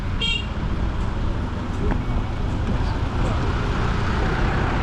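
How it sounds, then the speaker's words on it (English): Dirt bike horns honking along a foggy mountain road in Vietnam, a brief high horn toot near the start over steady engine and road noise. "We used our horns like a foghorn."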